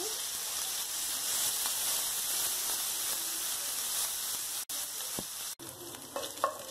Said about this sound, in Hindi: तो ये अदरक लहसुन फ्राई हो गए।